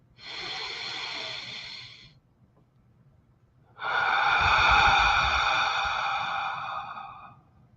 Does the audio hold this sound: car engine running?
no